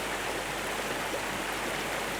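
At Campsie Glen, a waterfall pours over a rock lip, giving a steady, even rushing hiss of water that stays at one level throughout with no voices.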